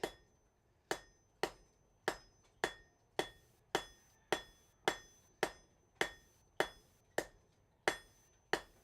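Hammer blows ring against a thin steel leaf being forged in a smithy, about fifteen sharp metallic strikes at a steady, even rhythm, close and clear with a bright ringing tone and no voices.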